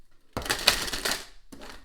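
A brand-new Archetypes tarot deck is shuffled by hand, producing a dense, crisp flurry of stiff cards riffling close by for about a second, then a short second burst, with no talking.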